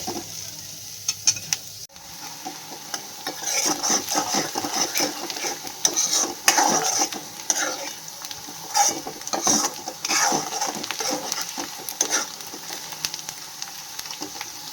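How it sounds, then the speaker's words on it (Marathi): Sliced onions fry in a pan until golden for a spicy prawn and potato gravy, a constant loud sizzle broken by repeated scraping strokes of a spatula stirring them. "कांद्याला पण असं छानपैकी भाजून घेऊयात"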